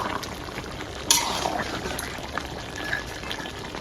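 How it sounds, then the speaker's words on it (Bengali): A spoon stirs mutton masala curry in a pot, a soft bubbling and wet scraping under a faint hiss, with one brief clatter near the start and no talking. "এবার ভালো করে মিশিয়ে নিব।"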